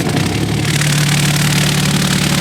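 A vibratory tumbler finishing machine for knife and balisong hardware runs with a loud, steady mechanical hum and rattling vibration, constant throughout and close by.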